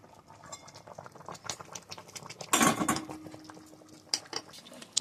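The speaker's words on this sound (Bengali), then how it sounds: "দেখতে পাচ্ছেন ঝোলটা ফুটে গেছে।" Fish curry broth boils in a pot on the stove, giving a steady close bubbling with light clinks of pans and utensils, and a loud burst of clatter and hiss in the middle; no one speaks.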